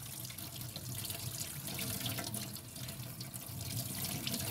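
Tap water runs steadily into a sink while a doll's hair is rinsed clean of shampoo, a soft continuous splashing flow close by, with no talking.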